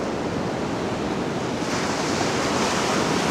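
Ocean surf rolls in at a sandy Australian seafront beach where surfers wait, a steady broadband roar of breaking waves mixed with wind buffeting the microphone, continuous and fairly loud, with no voices.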